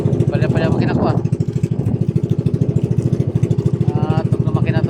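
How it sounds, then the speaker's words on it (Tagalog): A motorcycle engine running rough and misfiring on a rainy ride, with a steady low pulsing throb and uneven beats, loud and close throughout while someone talks over it. "Palya makina ko, ah."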